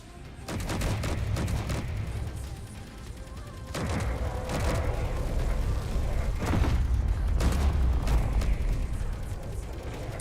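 Ship weapons firing in a space combat video game, rapid bursts of gunfire and heavy booming impacts in dense overlapping volleys, loud and continuous across the whole stretch with brief lulls.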